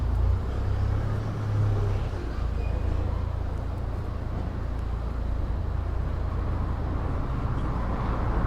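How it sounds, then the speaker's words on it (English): Steady rumbling road noise of cars, including electric cars, rolling over cobblestones, continuous and fairly loud, with a low hum throughout. "the cobblestones don't help at all because they can be very noisy, even when the electric cars are driving"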